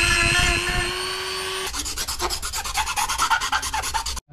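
Rasping strokes file down a plastic crankcase cover on an electric bike, a rapid series of scraping passes heard close up after a tonal whine at the start.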